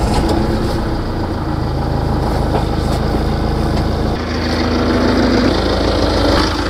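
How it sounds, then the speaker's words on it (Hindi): A Tata Yodha 4x4 pickup truck's diesel engine idles close up in a loud, steady, continuous rumble that stays even throughout. "अब चलिए इसका इंजन साउंड सुनते हैं।"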